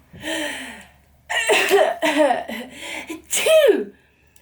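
Several harsh coughs, one after a short pause and then a quick run of three or four more, loud and close with no talk around them.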